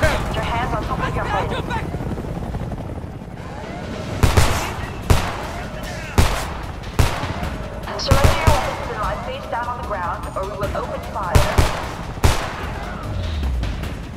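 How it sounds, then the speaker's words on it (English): Gunfire in the war video game Homefront: a series of sharp, loud shots in irregular bursts over a steady rumbling backdrop, with voices talking amid the shooting. "Start shooting!"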